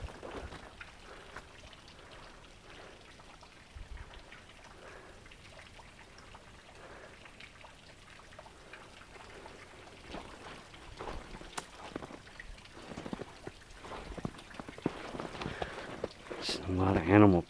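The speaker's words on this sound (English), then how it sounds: "running water." Running water heard outdoors in snowy woods, a faint, steady trickling and splashing that continues through the clip, with a few louder clatters and rustles near the end.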